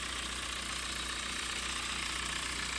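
A 2012 Hyundai ix35 with an automatic gearbox idles with the hood open, a steady even hum and hiss held close and unchanging throughout.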